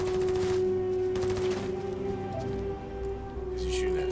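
Bursts of rapid gunfire in Starfield rattle over a steady electronic hum, a loud volley at the start, another around the middle, and a final burst near the end.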